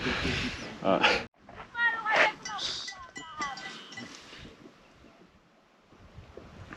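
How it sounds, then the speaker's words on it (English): Sheep bleat nearby in Lesotho while metallic bells clink irregularly from a flock moving close by, mixed with outdoor rustling. "you hear there was a flock of sheep close by, and you could hear the bell"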